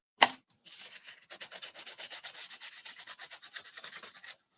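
A rubber stamp is rubbed back and forth against paper during card stamping, producing a close, quiet series of rapid rhythmic scratchy swishes after one initial tap.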